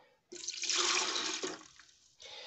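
Milk, about 250 ml, pours into a blender jar as a steady liquid stream for roughly a second and a half, close and moderately loud, then tapers off before a brief resumption.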